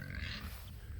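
Hungry pigs grunting in a pen, a faint, low rough grunt over quiet background noise.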